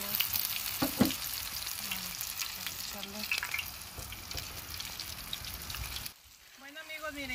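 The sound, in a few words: sierra fish chops frying in hot oil on a disc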